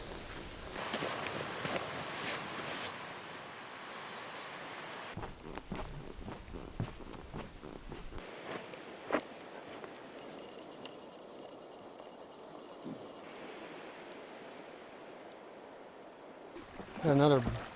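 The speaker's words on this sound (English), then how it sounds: "You can hear the lake washing up on the beach as you walk along." Lake water washes softly onto a sandy beach along a backpacking trail at Pictured Rocks National Lakeshore, a faint continuous wash under scattered footsteps on sand, with a brief louder rustle at the very end.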